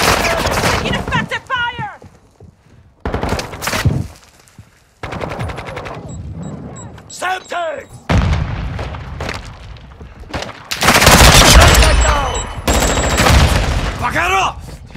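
Bursts of automatic and single-shot gunfire from the video game Modern Warfare 2, loud and close, come in repeated volleys with pauses between them, while voices shout and call out over the shooting.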